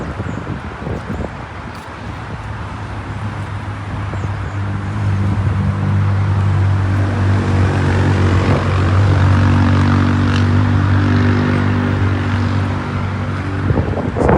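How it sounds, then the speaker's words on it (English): Engines of four-wheeler ATVs drone steadily past outdoors on a summer day, a low buzzing hum that swells louder midway and stays strong, then fades slightly, with no talk over it. "So the four-wheeler boys are back. About to be disturbing everybody this summer."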